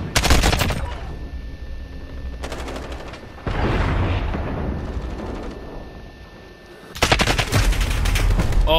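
Rapid AK-47 fire in Call of Duty Modern Warfare, loud close bursts at the start and end with a sustained rattling stretch between, set against ongoing game noise.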